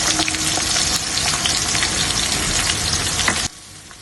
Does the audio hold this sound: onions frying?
yes